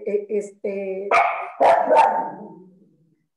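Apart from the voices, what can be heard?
dog barking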